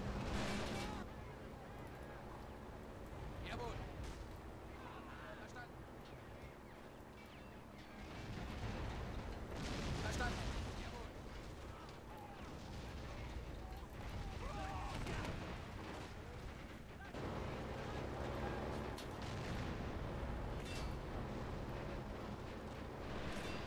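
Booms of artillery fire and explosions in the Men of War video game roll on as a dense, rumbling battle din, with heavier blasts around the middle and near the end.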